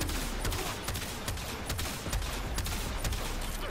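Rapid, steady bursts of gunfire from the Tombfinger weapon in the video game Warframe, with repeated sharp shots spread across the whole stretch, loud and continuous with no talking.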